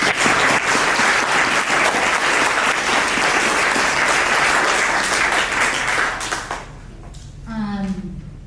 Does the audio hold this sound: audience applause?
yes